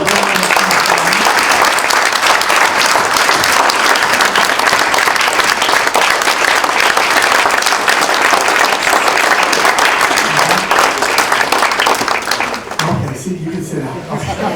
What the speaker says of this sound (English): would you please clap for her?